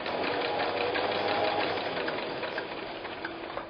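A sewing machine runs slowly and steadily close by, its motor whirring in an even hum with a faint rhythmic knock of the needle, the pace easing slightly toward the end.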